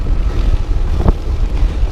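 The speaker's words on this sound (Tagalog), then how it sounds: "Naririnig nyo ba yung hangin?" Wind buffets the microphone while riding a bicycle on a road between barangays, a continuous loud low rumble and roar with no speech.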